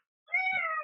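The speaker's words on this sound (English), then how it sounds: "Sorry, there's a cat here." A cat meows once, a single drawn-out call heard close and fairly loud after a brief silence.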